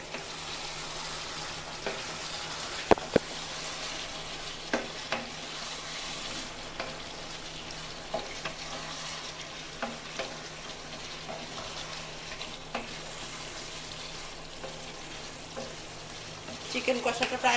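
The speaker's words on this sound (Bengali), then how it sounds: "এখন আমি ভালো করে এটাকে কষিয়ে নিব, আর ঢাকনা দেব না।" Chicken and potatoes sizzle steadily in an uncovered pan while being stir-fried with garam masala for chicken kosha, a continuous close frying hiss broken by occasional clicks of a spatula against the pan, with a clatter near the end.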